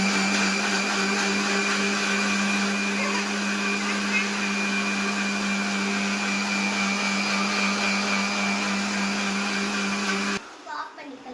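A mixer grinder blending guava juice runs steadily with a loud, even motor whine, then cuts off near the end, leaving quiet room sound.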